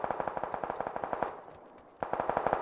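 Rapid automatic gunfire rattles in PUBG, a fast burst of evenly spaced shots that stops briefly, then a second burst starts again.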